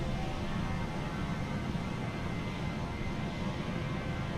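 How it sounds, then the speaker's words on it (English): Steady, broad roar of Boeing 737 jet engines in Microsoft Flight Simulator 2020, a constant cabin-like drone with no talk. "Now I'm flying a Boeing 737 and can work with the FMC."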